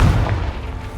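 A Confringo fire spell bursts with a deep, booming blast in the video game Hogwarts Legacy, a single heavy thump that dies away within a second.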